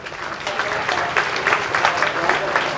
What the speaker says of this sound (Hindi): इस बहन को एक बार जोर ताली बजाओ।